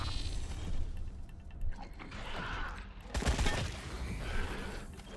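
Bursts of gunfire in the video game Wasteland 3, rapid cracks and booms layered over mechanical clatter and ambient game noise, with a denser volley of shots near the middle.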